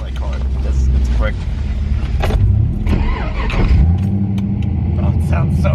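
An LS2 V8-swapped Nissan 240SX drives along with a deep, rumbling engine note that rises and falls under throttle, heard from inside the car while occupants talk over it.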